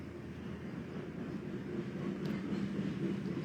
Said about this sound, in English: I think this is another long train too.